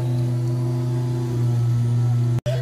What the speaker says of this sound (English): The neighbor is cutting the grass